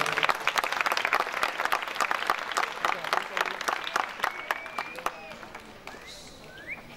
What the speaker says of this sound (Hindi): इनके लिए भरपूर तालियां बजाएगा।